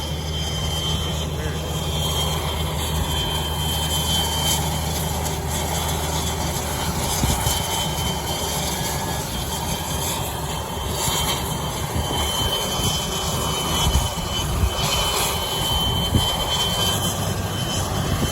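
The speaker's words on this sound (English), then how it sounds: "There goes the gyrocopter." A gyrocopter's engine drones steadily at an outdoor fly-in of experimental aircraft, a continuous mid-distance hum and rumble with faint background activity throughout.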